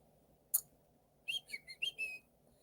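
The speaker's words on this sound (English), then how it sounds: "How do you like that whistle?" A person whistles a short, wavering melody of several quick high notes close to the microphone, preceded by a single sharp click, with quiet background otherwise and no talking.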